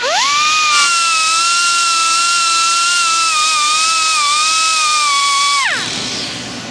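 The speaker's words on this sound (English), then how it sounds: "let's hit this with a die grinder and cut away this little built-in washer right here" A die grinder on high speed cutting away a built-in washer on a 1995 Jeep Wrangler 4.0, a loud sustained high-pitched whine that holds steady for several seconds, then winds down as the tool stops.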